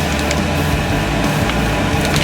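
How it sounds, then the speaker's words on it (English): A glass tube being crushed on a generator exhaust hose gives a dense, loud, continuous crunching and splintering, close up and unbroken, with no talking. "what you're hearing is me crushing the glass tube"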